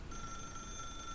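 An office telephone rings in The Stanley Parable video game, a single sustained, near, bright electronic bell tone holding steady from start to finish.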